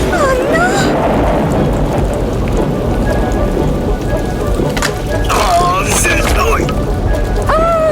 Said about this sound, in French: Après ce bref mais violent orage d'été